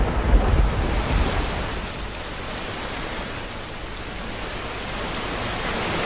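Steady rain pours down in Ahmedabad, a dense hiss filling the whole stretch, with a low rumble of thunder near the start.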